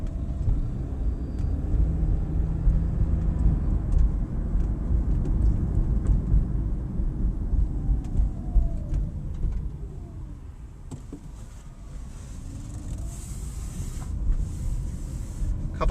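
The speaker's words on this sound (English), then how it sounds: "A couple other sounds that you hear when you're driving the car is you'll hear the electric motors." Inside a moving 2011 Toyota Prius, road rumble fills the cabin while faint rising and falling electric motor whines sweep through the background.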